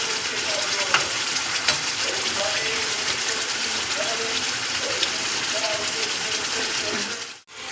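Rohu fish fries in a cooked spice masala for a fish kalia, giving a loud, continuous sizzle close by, with scattered sharp clicks and scrapes of stirring and a brief dip near the end.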